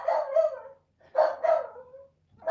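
A small dog gives close, sharp barks in two quick double bursts with a short pause between, and another bark starts at the end, all with no voices.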